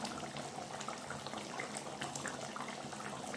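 Chicken curry bubbles in a pot, a soft, steady simmer of small popping bubbles, faint and continuous with no talking over it.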